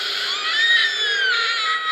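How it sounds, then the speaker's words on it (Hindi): A girl's high-pitched sustained scream in a horror story sound effect, loud and close, wavering slightly in pitch for about two seconds. "वो अचानक चिल्ला पड़ी।"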